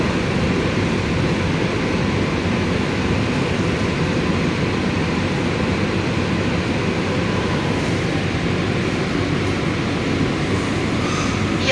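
An air-conditioned EMU train pulls into Tirusulam station in Chennai, a steady loud rumble of wheels and carriage noise filling the whole stretch with a broad, continuous roar and no break.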